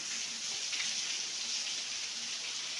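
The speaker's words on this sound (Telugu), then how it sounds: "వర్షం బాగా పడుతుంది కదా" Steady rain falls on plants around a Shiva temple, a dense even hiss of drops with no pauses or voices.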